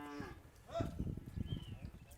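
An Angus crossbreed bull at a cattle market gives one low, drawn-out moo close by, with people talking around it.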